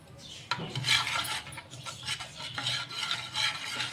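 A spoon stirring fenugreek leaf dal in a pot, giving continuous soft scraping and swishing with a few light metallic clinks, close and fairly quiet.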